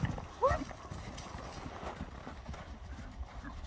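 Hooves clip-clop steadily on the ground while a brief animal call sounds near the start, with faint outdoor noise throughout.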